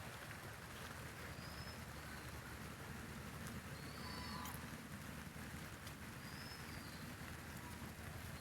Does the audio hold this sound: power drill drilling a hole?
no